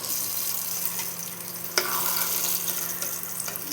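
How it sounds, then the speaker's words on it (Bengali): Brinjal with a pinch of turmeric fries in oil, giving a steady soft sizzle with one brief clatter partway through. "সামান্য একটু হলুদ দিয়ে বেগুনটা ভেজে নেব।"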